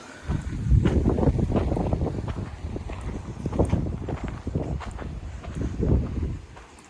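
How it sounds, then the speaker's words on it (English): Strong wind buffets the microphone at a coastal state park in Palm Coast, Florida, producing a continuous loud rumbling roar with gusty surges throughout, no speech heard. "it is windy out here today"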